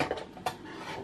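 A metal fork and cutlery are handled in a home kitchen while chicken breast is being chopped, giving a few light clinks and one sharp clatter near the middle, close and fairly quiet with no talking.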